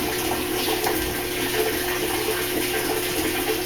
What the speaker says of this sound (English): I kind of can hear the water. It almost sounds like a bath water running or something.